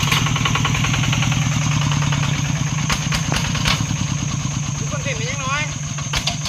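A small 12-horsepower engine vehicle labours up a steep hill in second gear, its loud, steady, throbbing putter close by and continuous, while people talk and shout over it.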